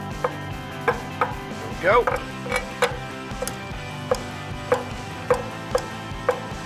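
A knife chops charred, softened mango on a cutting board in steady, evenly spaced knocks, close and crisp, with one brief clatter midway and a single short spoken word.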